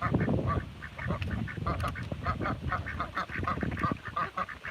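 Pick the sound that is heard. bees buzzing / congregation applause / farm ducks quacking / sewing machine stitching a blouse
farm ducks quacking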